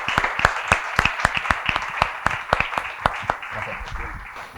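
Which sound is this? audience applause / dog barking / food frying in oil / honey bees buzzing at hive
audience applause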